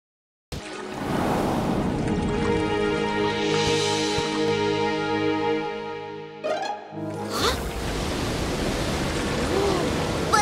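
A waterfall roars as a steady, loud rushing wash that drops out briefly near the middle and then returns.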